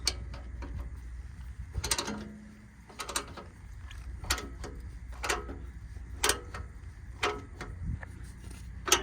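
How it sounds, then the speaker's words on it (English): Ratchet wrench loosening 5/8 bumper bolts on a Dodge B van, quiet close clicks coming in short separated bursts, with no talking. "Use a ratchet wrench here to remove them."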